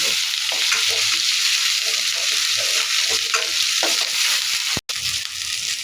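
Spices with turmeric frying in a pan for a spicy pangas fish curry, a dense continuous sizzle with repeated stirring scrapes, close and loud, briefly cutting out near the end before resuming.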